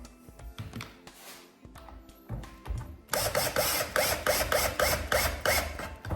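A screw on a Husqvarna chainsaw handle gets tightened, giving sparse clicks and scrapes at first, then a loud, regular ratcheting burst of repeated metallic clicks, close up, with no talking.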